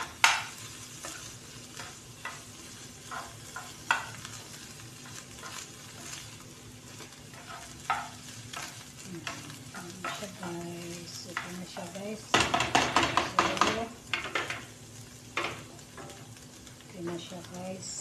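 Sardines fry and sizzle in a pan while being stirred, with a steady sizzle under repeated scraping and clanking of a utensil against the pan, louder bursts of stirring near the end.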